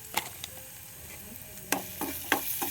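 Curry base with chicken masala sautéed in a pan for a quick egg curry, with a low steady sizzle punctuated by a few sharp scrapes and clacks of a spoon stirring against the pan.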